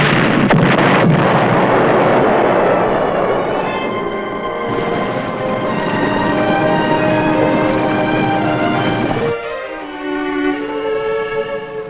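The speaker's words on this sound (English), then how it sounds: "They're shooting up their own ship!" Heavy naval gunfire blasts from a warship shooting at its own vessel, a dense roaring barrage of booming explosions with wind-like rumble, loud and continuous before easing slightly near the end.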